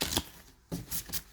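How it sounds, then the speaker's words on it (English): Oracle cards shuffled lengthways by hand, a few quick riffling bursts separated by short pauses, close and fairly quiet with no talk. "So I shuffle lengthways because my hands aren't big enough to shuffle the other way."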